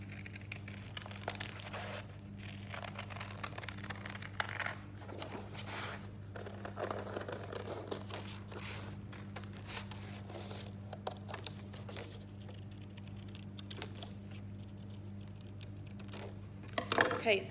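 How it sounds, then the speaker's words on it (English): Scissors cut a red paper circle into a reindeer's nose during a Christmas gift-wrapping craft, giving faint, close snips and paper crinkling over a steady low electrical hum. "And I'm just going to cut this out as well."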